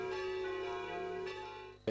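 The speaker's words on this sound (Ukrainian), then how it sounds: "По всіх храмах лунали дзвони" Church bells ring across city temples during a religious celebration, a sustained resonant tone with lingering overtones that carries steadily and fades slightly near the end.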